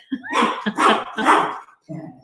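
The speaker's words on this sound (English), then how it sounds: "usually when she's barking, it's not at anything" A dog gives three quick, loud barks close by, then a softer fourth sound after a short gap, in an indoor room.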